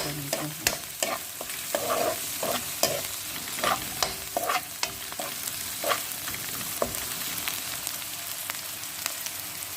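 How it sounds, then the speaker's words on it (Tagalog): Garlic and ginger stir-fried in a pan, with steady sizzling broken by repeated sharp scrapes and knocks of a spatula, close and moderately loud, without any talk. "Ayan guys, isunod ko yung bawang at saka yung luya. Halo-halo guys."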